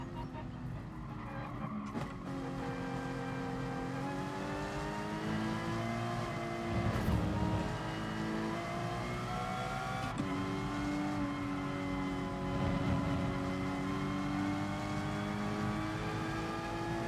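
A race car in Gran Turismo Sport drives on track with a steady, sustained engine drone whose pitch climbs and falls through gear shifts, with some tyre noise, alone and fairly even in level throughout.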